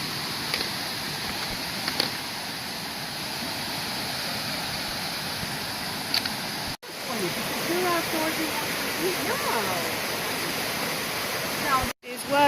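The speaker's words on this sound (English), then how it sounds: "It's like one giant waterfall all the way up this mountain." A loud, steady rush of falling water at Amicalola Falls roars continuously, broad and close, with brief dropouts.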